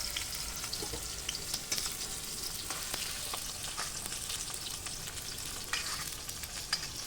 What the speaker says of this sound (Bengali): তো পেঁয়াজটা এখন ভাজা ভাজা হচ্ছে, আর একদিকে আলু ভাজা হচ্ছে।